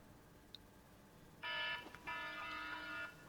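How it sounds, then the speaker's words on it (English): A FOBO Tire Lite tire pressure monitor sounds a bright electronic alarm, two loud sustained beeping bursts heard up close with a short gap between them, no talking. "And it's also sounded an alarm."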